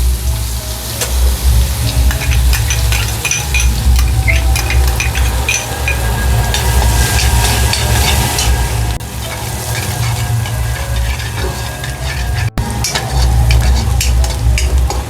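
Chopped onion sizzles loudly and continuously in hot oil seasoned with asafoetida in a pan for mutton keema, a dense crackling hiss with the scrape of stirring running throughout.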